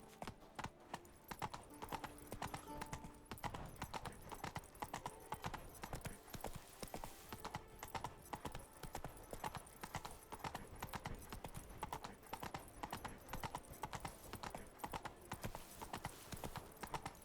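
Roach, a horse in The Witcher 3: Blood and Wine, trots with a steady, continuous clip-clop of hooves on a hard surface, running throughout at moderate loudness alongside ambient game sounds.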